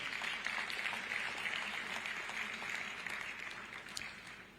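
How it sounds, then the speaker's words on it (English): Steady applause from a conference audience at the EU Zambia Lobito Corridor Forum, many hands clapping at moderate volume and slowly tapering off. "Let's give them a round of applause"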